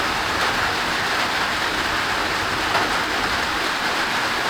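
Tropical storm rain pours down steadily in Ohio, a dense, even hiss of heavy rainfall that holds at constant loudness with no breaks.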